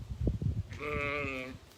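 A sheep near a sheep pen lets out one wavering bleat, fairly quiet and close, following a few soft low thumps.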